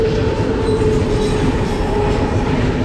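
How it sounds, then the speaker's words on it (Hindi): An express train in India, the Thiruvananthapuram to Shalimar service, rushes past close by: a loud, continuous rumble with clattering wheels and a faint squeal, no voices. "तो एक और ट्रेन की क्रॉसिंग होती है हमारे सामने से"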